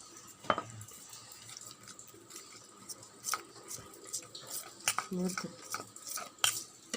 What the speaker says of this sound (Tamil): நம்ம இதை தண்ணி ஊற்றி கலக்கணும்.